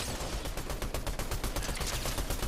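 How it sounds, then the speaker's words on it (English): Sustained rapid gunfire in a video game, a dense continuous volley of shots filling the whole stretch at steady loudness, coming from behind the player. "Someone's shooting up behind us"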